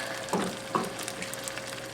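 Sloppy joe mixture with ketchup is stirred in a pan, a low frying sizzle with a couple of soft scraping strokes, close and fairly quiet.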